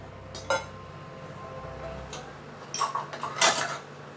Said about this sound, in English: we need to wash the rice